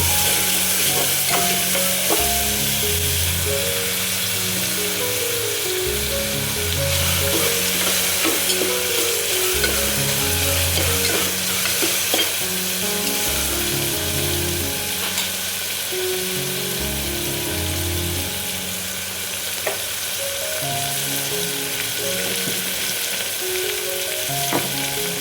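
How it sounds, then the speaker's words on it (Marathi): Tomatoes frying in a pan for cashew chicken masala, sizzling steadily while a spoon stirs and scrapes around the pan in repeated rhythmic passes, close up and loud throughout. "तर आता आपण टोमॅटो घालून घेऊया मस्तपैकी"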